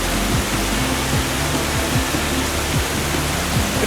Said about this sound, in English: So it's a 5K round trip to see this gorgeous waterfall